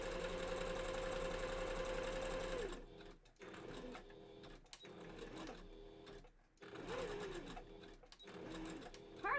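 Close, loud whirring of a sewing machine straight-stitching around a fursuit bandanna for a few seconds, then stopping into quieter rustling and fabric handling.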